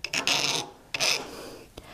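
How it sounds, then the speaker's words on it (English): A sanding stick rasps against the tip of a metal bezel setting tool in a jeweler's workshop: two long, close scrubbing strokes, then a brief scrape. "I'm going to take my sanding stick and notice that I'm only working right here at the very tip"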